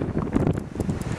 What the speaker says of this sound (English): It's actually windy.